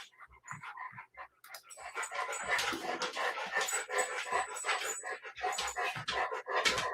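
A dog pants rapidly and steadily at close range, with a few soft whimpers at the start before the quick breathing fills the rest of the stretch, no voices.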